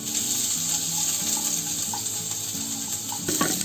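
Crushed ginger and garlic fry in hot oil with a steady, bright sizzle throughout, and a short clatter of utensils near the end.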